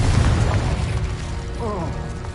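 Confringo fire-blast spell in Hogwarts Legacy, a loud booming burst with dense low rumble and crackling debris, followed by a lingering mechanical rattle, near and full, with game sounds layered over it.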